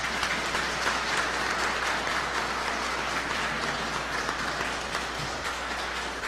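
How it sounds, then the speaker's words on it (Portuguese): A church congregation at a Presbyterian church claps loudly for the women, a dense, sustained wash of hands from many people that holds steady throughout with no talking. "Eu queria que nós agradecêssemos as mulheres com as nossas palmas, dizendo muito obrigado a vocês."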